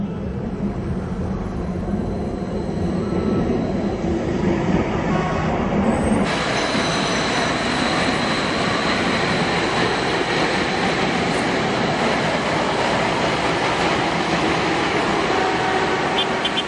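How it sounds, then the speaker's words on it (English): A light rail train runs in Addis Ababa, Ethiopia, with a steady loud rumble and rolling noise that holds throughout and brightens partway through, with no talk. "have you guys seen the light rail that they just launched in Ethiopia?"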